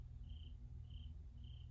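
Crickets chirping outside an open window at the end of summer, three steady rhythmic trills repeating about every half second over a low background hum.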